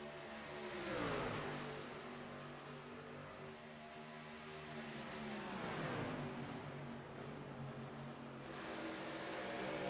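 Race trucks in a Kansas sim racing truck series roar past in a pack, with engines revving and rising then falling as they sweep by in two clear waves, fairly faint overall.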